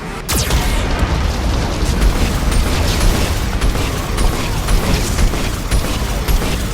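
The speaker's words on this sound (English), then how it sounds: "Warning, Geth cannon is locking on our location." Geth cannon fire and explosions in the video game Mass Effect 2, heard as a dense, continuous roar of booming blasts and rumbling debris, loud and unbroken throughout.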